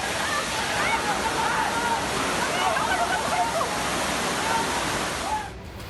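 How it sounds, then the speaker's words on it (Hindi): Flood water rushes through Jaipur city streets, pouring steadily and loudly, a dense, continuous churn that cuts off abruptly at the end. "जयपुर शहर के रास्तों पर सैलाब का पहरा है।"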